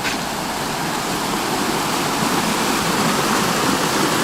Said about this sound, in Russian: Здесь водопадик тоже маленький какой-то.